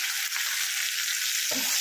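Rice for Bengali muri ghonto fries in a pan with a dense, even crackling hiss, close and loud, lasting the whole moment, with a brief soft knock near the end.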